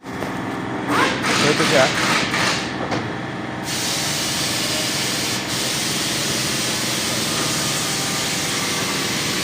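A 2016 Lexus GS350 with a V6 engine runs at a steady idle close by, giving a constant mechanical hum that continues under brief talk at the start.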